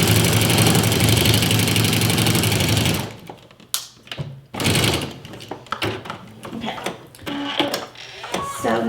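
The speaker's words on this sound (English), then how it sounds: "Put a pin there, sew to it, and then back stitch." A sewing machine sews a pillow seam and then back stitches. A steady, fast mechanical whir runs for about three seconds, then stops, followed by scattered clicks and handling noises.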